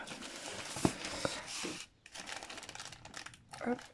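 Plastic packaging crinkles and rustles as a parcel of diamond painting kits is opened, with a few sharp crackles, a brief pause partway through, then more handling noise close up.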